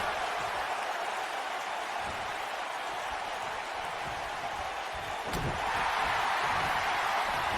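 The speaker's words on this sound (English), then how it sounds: "Mia Yim trying to feed off the crowd, the energy of the crowd." Wrestling crowd at an indie pro wrestling show cheering and applauding steadily, a dense continuous wash of noise that swells slightly louder near the end, with no talk over it.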